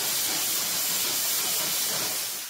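A loud, steady hiss of steam venting continuously at close range from a La Pavoni Double Switch espresso machine, tapering slightly at the end, with no talking.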